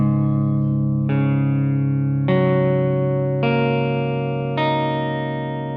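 Electric guitar strings in drop D, tuned down a half step, are played one at a time from low to high. There are about five distinct plucks, each ringing and decaying with a slightly distorted tone, up close and with no speech.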